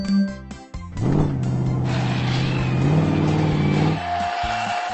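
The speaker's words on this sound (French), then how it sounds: "Ce sont des voitures de course." Cartoon race cars roar past with a rising engine whine and a long squealing tire skid, loud and close, followed by quieter musical tones.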